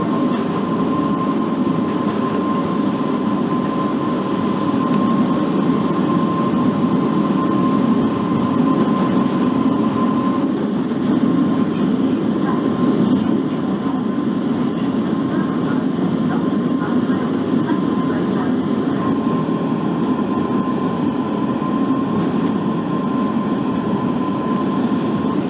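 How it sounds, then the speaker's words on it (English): Central Line tube train in the Open BVE simulator running with steady rumbling wheel and motor noise, a sustained squealing flange tone riding over it throughout, continuous and loud with no pauses. "And you can hear a lot of flanking."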